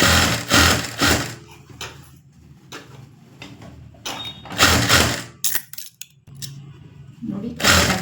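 A domestic sewing machine stitches a cotton churidar bottom in a home tailoring lesson, heard as several loud bursts of rapid mechanical clatter separated by pauses, with small clicks and handling noises between runs.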